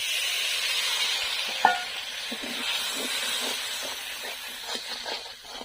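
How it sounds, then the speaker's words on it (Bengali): Water poured into a pan of salt, turmeric and spiced masala for a stuffed pointed gourd dish sets off a steady hiss and sizzle, with soft scraping and stirring taps throughout. "এবার আমি দিয়ে দেবো একটু জল।"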